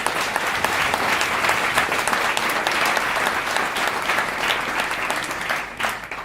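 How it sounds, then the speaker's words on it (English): An audience at a U.S. House candidate forum breaks into sustained applause, a thick, even wash of many hands clapping for several seconds before thinning out near the end, with no voices over it. "Let's give them another round of applause."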